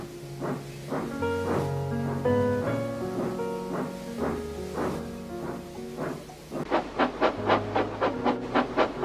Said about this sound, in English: with a brave toot of his whistle, and wheeshing steam loudly